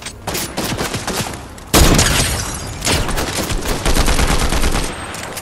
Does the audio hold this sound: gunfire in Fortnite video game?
yes